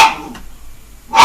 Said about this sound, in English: just stopping the dog barking